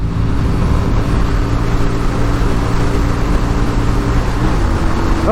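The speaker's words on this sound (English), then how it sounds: "we're hitting a good 70 mile an hour now. And that's, like I said, I'm at full throttle" A 1988 Yamaha Virago 250 motorcycle at full throttle around 70 mph, its engine a loud, constant high drone mixed with heavy wind roar, close and unbroken throughout.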